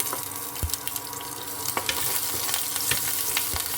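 Onion and curry leaves frying with mustard seeds in hot oil for a village-style lentil curry, a dense steady crackling sizzle close up with sharp pops and occasional scrapes of a stirring spoon, no voices.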